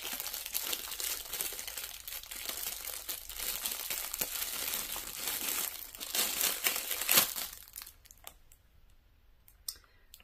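Plastic haul bags crinkle and rustle while being unpacked, producing close, busy crackling for several seconds before it fades to a few scattered soft rustles.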